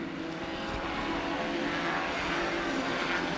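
Front-wheel-drive compact race cars roar around the oval at Lucas Oil Raceway in Indianapolis, a steady, loud blend of engines with no break over a few seconds.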